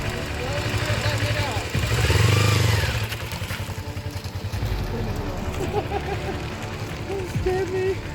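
A 1986 Kawasaki Ninja motorcycle engine idles and rises into a rev as the restored bike pulls away, staying fairly close and loud throughout, with people talking over it.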